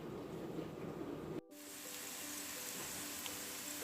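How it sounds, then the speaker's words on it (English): Rampicante zucchini sautés with garlic, onions and sage in a pan, giving a steady, soft sizzle that breaks off briefly and then resumes as an even frying hiss. "sauteed now with the rampicante zucchini and garlic and onions and sage"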